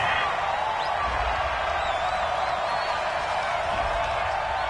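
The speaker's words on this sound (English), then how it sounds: "Well, the crowd doesn't like that." Stadium crowd noise in an American football video game after a penalty flag: a steady, dense murmur of boos and disgruntled voices that holds at an even level throughout, with no clear peaks.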